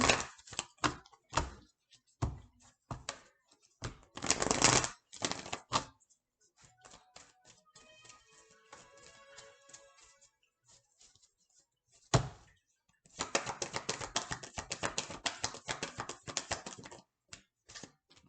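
Tarot cards are shuffled and drawn, with rapid riffling and snapping card bursts close up, a quieter stretch of light handling in the middle, then another long dense shuffle, all without talking.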